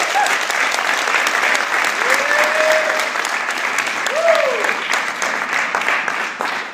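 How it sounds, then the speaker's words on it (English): Sustained audience applause at a motivational success-mindset event, steady dense clapping from a large crowd throughout, with a couple of faint whistles rising above it. "guys, give a round of applause"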